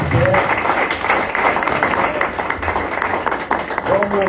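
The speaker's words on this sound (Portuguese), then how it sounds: "Dê um aplauso a Jesus, fica de pé." Church congregation clapping together, a dense, steady patter of many hands filling the space for several seconds, with voices mixed in underneath.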